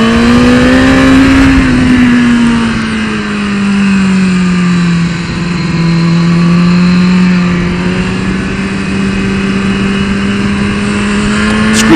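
A 2015 BMW S 1000 RR sport bike on a race track, its engine howling loud and close with a sustained high-revving tone that dips and climbs as the rider shifts through turns.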